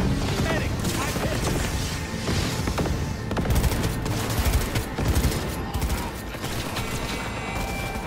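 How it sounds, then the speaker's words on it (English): Missiles and gunfire shot at the player in the Cyberpunk 2077 video game, a dense, continuous barrage of rapid gunshots and blasts, loud and close throughout, with someone talking over it. "These dudes are shooting all kinds of missiles at me."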